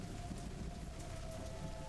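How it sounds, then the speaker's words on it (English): Rain in the video game Entwined: Strings of Deception, a steady soft downpour that stays even and fairly quiet, with a low rumble underneath. "The rain is starting to get heavier."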